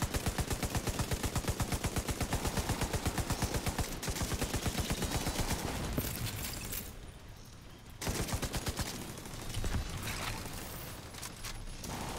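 Automated turret in The Division 2 firing a long, rapid, regular burst of gunshots, loud and steady for several seconds, then trailing into scattered bursts and combat noise.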